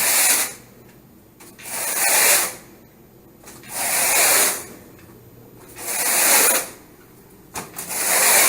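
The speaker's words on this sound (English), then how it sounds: "we're going to rake the carpets real quick" A rake drawn across freshly cleaned, damp carpet makes five loud, rhythmic brushing strokes, each a rising and falling swish about a second long, separated by short quiet gaps.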